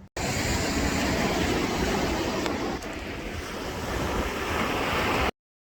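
Sea waves wash onto a beach on Koh Phangan, a loud continuous roar of surf mixed with heavy wind buffeting the microphone throughout, with no voices.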